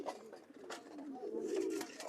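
A pair of Banaras pigeons kept together in a coop for pairing coos in low, rolling phrases nearby, with faint background noise.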